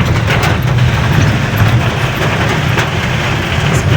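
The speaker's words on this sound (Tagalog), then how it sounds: "Grabe talaga yung lakas ng ulan." Heavy rain pouring down in the countryside, a loud, dense, unbroken roar with a strong low rumble underneath, steady throughout with no talk.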